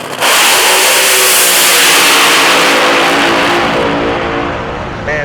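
A late-1960s-style dragster with a 3-disc clutch revs hard and loud at a nighttime drag racing event, a sustained roaring engine blast that fills the clip and eases slightly toward the end.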